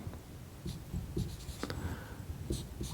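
A formula is written on a board in short scratchy and tapping marker or chalk strokes, close and fairly quiet, with no talk.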